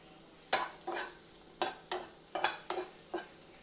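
A pan of green chillies frying for egg omelette Maggi gets stirred with a spoon, giving about eight quiet, sharp scraping strokes at an uneven pace over a faint sizzle.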